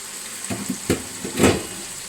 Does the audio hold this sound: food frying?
yes